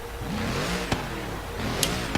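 A Mercedes car with a central exhaust and turbo in Forza Horizon 3 gives a steady, continuous engine drone with a few brief sharp transients, heard alone without talk.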